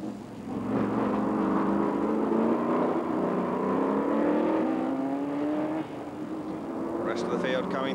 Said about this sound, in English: The rest of the field coming through. That glorious Porsche 908 there really being slid around.